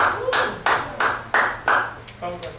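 In a church service, several distinct hand claps ring out one at a time at a slow, even pace against a quiet room, with a voice speaking faintly between them.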